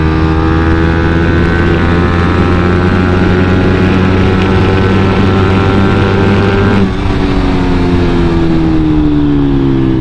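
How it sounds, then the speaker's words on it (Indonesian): A Suzuki GSX sport motorcycle engine revs hard and loud, with a steady high-pitched drone that shifts pitch partway through as the throttle changes, close to the microphone with no talking. "udah lama gua nggak geber GSX gua sendiri"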